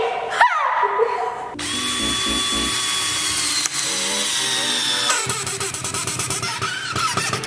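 A power drill whirs loudly and steadily up close, then sputters into rapid stuttering pulses toward the end, with no voices.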